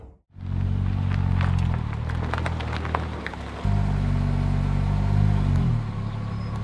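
A Porsche Boxster drives along a road, its engine a steady low drone that steps up in pitch as it accelerates, with faint road and cabin rattles and no voices.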